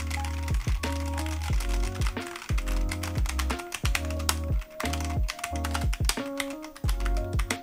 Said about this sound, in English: I can quickly type away and it feels very, very comfortable